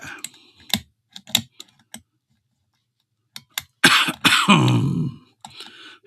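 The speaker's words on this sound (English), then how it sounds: "As I sit here still coughing too." A person coughs and clears their throat indoors, a few sparse short coughs early on, then a louder cluster of harsh coughs near the end, with faint clicking between them.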